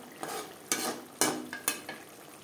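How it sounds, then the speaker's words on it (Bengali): Fried bele fish turned into a tomato gravy in a pan, a few distinct scraping stirs over a low sizzle, close and moderately quiet, with no voices. "গ্রেভির সাথে মাছ বেশ ভালো করে মিক্সড করে দেব।"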